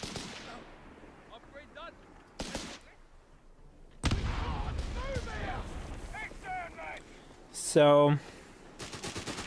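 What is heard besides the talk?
gunfire on infantry in the video game Company of Heroes 3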